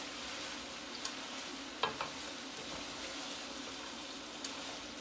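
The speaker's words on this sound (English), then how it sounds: "give it another stir again" Food being stirred in a cooking pot, with a steady low sizzle of frying underneath and a few soft scraping knocks of the spoon against the pot, fairly quiet and close, with no talking.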